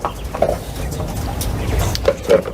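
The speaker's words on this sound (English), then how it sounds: "We'll go check out the chickens" Chickens clucking near a backyard quail shack, a few soft short clucks scattered over low background rustle and handling noise.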